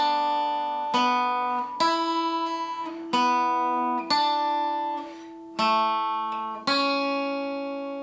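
A riff played on guitar, a clean, twangy repeating figure of about seven plucked notes and chords, each ringing out before the next, played alone.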